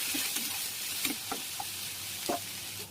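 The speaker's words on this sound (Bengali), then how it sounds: "কেটে রাখা আলুগুলো দিয়ে ভালো করে ভেজে নেব" Potatoes sizzle in mustard oil with dried chillies and cumin, a steady low frying hiss with a few soft stirring knocks, close and alone with no voices.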